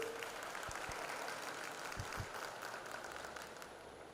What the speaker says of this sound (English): I would like all of you to give a big round of applause to all the parents